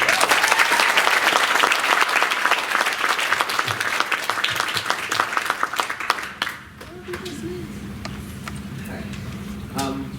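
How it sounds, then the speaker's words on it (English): An audience at an oratorical contest claps loudly and steadily to welcome a speaker, dense applause filling the room before fading to scattered claps and quieter murmuring in the last few seconds. "let's welcome him with a round of applause."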